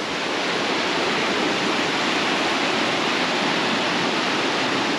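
A small river in Colombia flowing steadily, a dense, even rush of water that stays loud and close throughout with no voices.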